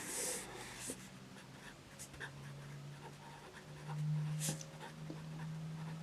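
Handwriting a title on paper in an English class lesson, with soft scratchy pen strokes heard close under a person speaking Hindi, alongside a low steady hum.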